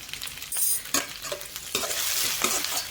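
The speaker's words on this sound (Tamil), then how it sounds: "நல்லா எல்லா பக்கமுமே கலந்து விடுங்க. அப்போ தான் நம்ம போட்டிருக்க உப்பு வந்து நல்லா வெங்காயம் தக்காளியோட எல்லாம் பிடிக்கும்." Tomatoes and onions with salt stirred while frying in a pan, producing a continuous hiss of sizzling broken by repeated scraping strokes of a spoon, close and moderately loud.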